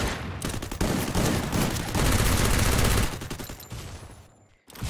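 Dense, loud gunfire from a Free Fire match in a Clash Squad championship final, rapid machine-gun bursts rattling almost continuously before thinning out and briefly dropping away near the end.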